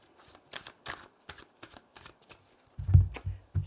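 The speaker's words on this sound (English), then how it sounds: "I'm just going to cut the cards and find out what we've got." Mythic Tarot cards are shuffled in a series of short, crisp riffling bursts, followed by a heavier, thumping cut of the deck at the end, close and fairly quiet.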